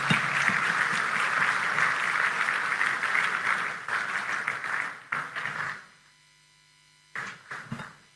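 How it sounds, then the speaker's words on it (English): Audience applause at an Edo State summit marking Governor Obaseki's eight years in office, a steady wash of clapping for about five seconds that thins out and breaks off, followed by a quiet hum and a brief late burst. "I think the applause can be a little more resounding for such a sound mind."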